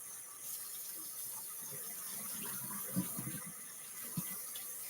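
Cold tap water runs steadily into a coffee pot at a kitchen sink, a continuous soft hiss and splash with a few small knocks, fairly quiet and without talk.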